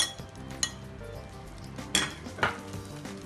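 Shallots and spring onion frying in a pan, a soft sizzle broken by a few sharp clinks of a utensil against the pan, fairly quiet with no talking.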